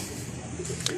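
A soft, low pigeon coo runs through a brief moment, fairly faint against a quiet outdoor background.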